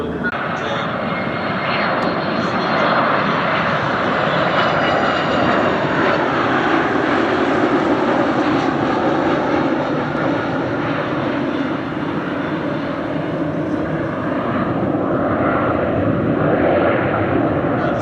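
Aerobatic aeroplane performing at an airshow, its engine droning loudly and continuously with gentle swells as it passes, while a commentator speaks over the sound.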